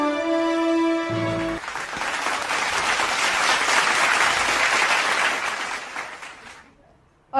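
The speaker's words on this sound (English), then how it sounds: "A huge round of applause," At a virtual awards night, a short musical tone gives way to a steady wash of audience applause. The clapping swells, holds for several seconds, then fades out.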